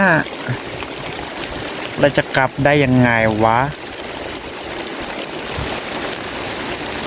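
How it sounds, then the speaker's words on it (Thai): Heavy rain pours in a steady, close, broadband hiss while someone talks briefly over it in the middle, and the downpour carries on alone afterward. "ฝนมันยิ่งตกหนักอะ่ะ"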